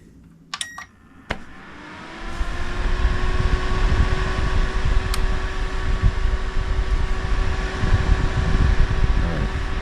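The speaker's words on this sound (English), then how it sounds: "So the heater's on, it's producing heat" A 1500 watt personal heater running on a solar inverter: a few clicks and knocks as it starts, then a steady loud fan whir with a faint tonal hum that continues unbroken.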